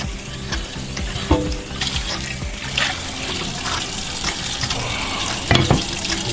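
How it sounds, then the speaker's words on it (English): A cast iron frying pan being rinsed under running water, a steady close splash and hiss of the tap with occasional knocks and clanks of the pan against the sink, continuous and fairly loud. "Give it a good rinse."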